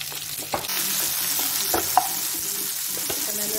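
Mango kasundi, a mustard sauce with fennel and coriander, bubbling and sizzling steadily in a pan while stirred, with a few sharp scrapes and clicks from the spoon close by; no talking.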